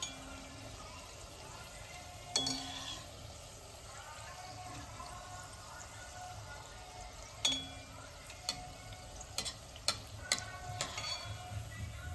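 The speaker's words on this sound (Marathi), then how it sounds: "थोडासा गोल्डन ब्राउन होईपर्यंत आपण तळणार आहोत." A steady, soft frying sizzle of bhature in oil continues, broken by occasional spoon clinks and a faint voice in the background.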